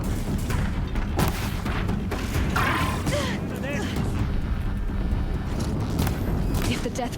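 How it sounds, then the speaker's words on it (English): Deathbringer machines firing during a fight in the video game Horizon Zero Dawn, a steady dense barrage of booming and mechanical clatter with scattered shrill effects running throughout the whole stretch. "If the Deathbringers keep firing, this bridge will go"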